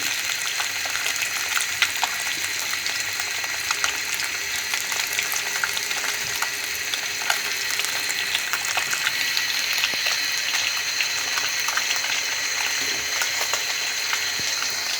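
Fresh fish frying in a pan, giving a steady, dense sizzle and crackle that runs evenly throughout with no talking.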